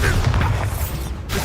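Bombarda spell explosion in Hogwarts Legacy, a loud, dense, booming blast that fills the moment with rumbling and crackling energy, followed by a second surge near the end.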